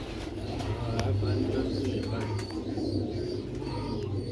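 Soft, steady cooing of Sialkoti pigeons hums low beneath constant background noise, with occasional faint clicks and distant chirps.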